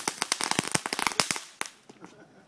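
A rapid string of firecrackers on Christmas Day in Lanquin, Guatemala crackles loud and close for about a second and a half, then trails off into a few scattered, fainter pops.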